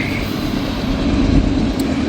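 Freight train locomotives approaching with their engines working hard, a steady loud low rumble and drone that fills the whole clip without a break.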